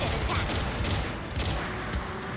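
Game gunfire from a Gundam's Vulcan guns, a continuous loud rattling burst of rapid shots with dense, noisy texture and no talk over it.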